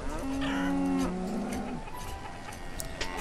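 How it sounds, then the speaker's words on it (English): Cattle in the village-building game Banished give a loud, drawn-out moo, with a second lower moo overlapping it. The mooing then fades into quiet background ambience. "Let's check on our cows. We're up to 8 cows, which is excellent."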